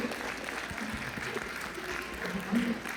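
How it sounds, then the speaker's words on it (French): Audience applause for graduates at a graduation ceremony, a steady wash of clapping filling the hall under a faint voice or two. "Je vous prie de les applaudir et merci de vous rasseoir. Applaudissez-les chaudement."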